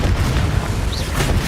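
A deep, booming blast from the Confringo spell in Hogwarts Legacy, a sustained rumbling explosion that fills the moment, loud and close.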